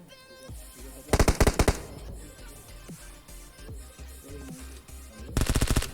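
Automatic gunfire from an enemy in the battle royale game PUBG in Pochinki, two loud rapid bursts of shots close by with quieter game sounds between them; no talking.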